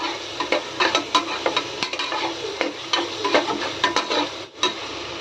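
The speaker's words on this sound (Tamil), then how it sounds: "இஞ்சி பூண்டு பேஸ்ட்டு போட்டதுக்கப்புறம் நம்ம கிளறிக்கிட்டே இருக்கணும்" Ginger garlic paste is fried in a pan for a village-style mutton kulambu, with a spoon scraping in quick repeated strokes over a soft, continuous sizzle, heard up close.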